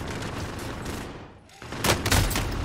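Video game gunfire, rapid bursts of automatic shots that dip briefly then return louder and closer in a dense volley.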